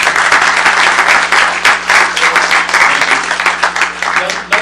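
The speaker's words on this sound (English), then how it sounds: "Can we have a round of applause for Chris?" A conference audience gives a short, lively round of applause for a panel moderator, dense overlapping clapping lasting a few seconds and easing slightly toward the end.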